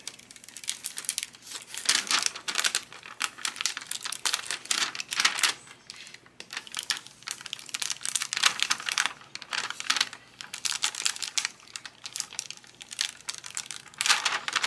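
Transfer tape being peeled off a hotfix rhinestone tumbler, heard as close, faint crinkling and crackling rustles that come in irregular bursts with short gaps between them.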